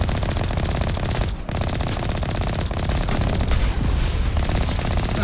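Sustained rapid automatic gunfire from the video game Mass Effect Legendary, a loud, dense stream of shots with occasional heavier blasts, filling the whole stretch with no pauses.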